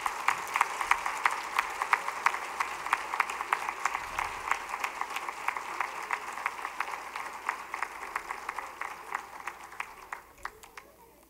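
Sustained audience applause at a school's golden jubilee ceremony, honoring staff; steady dense clapping from a seated crowd lasting throughout, fading slightly toward the end.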